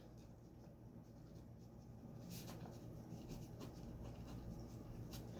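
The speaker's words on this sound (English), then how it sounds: "on this partition paper, you are going to write 3 times the person's full name" A pen writes a person's full name on partition paper, making soft, faint scratching strokes in short bursts against a low background hum.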